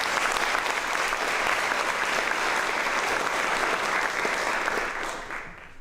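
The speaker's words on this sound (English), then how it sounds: "One more round of applause for those amazing speakers." School audience at a grade 8 promotion ceremony gives the speakers a sustained round of applause, a thick even roar of many hands clapping that fades off near the end.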